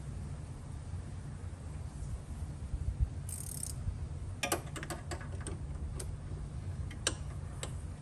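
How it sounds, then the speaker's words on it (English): A tight ratchet wrench clicks in quick bursts during an AC compressor replacement on a Tesla Model 3, the sharp ticks close and fairly faint over a steady low hum. "Having one of these tight ratchets like this makes a lot of jobs much easier."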